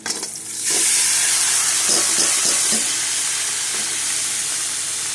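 Over a kilogram of salted snake gourd and seven green chillies hit a pan of frying onions, setting off a sudden loud, steady sizzle with a few faint stirring clicks underneath.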